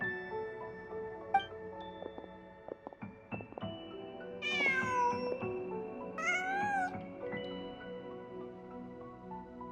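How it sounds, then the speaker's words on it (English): A cat in the winter-night video game A Traveler on a Winter's Night meows twice, each call drawn out and rising then falling, set against a soft tonal background with scattered light clicks. "Just a cat."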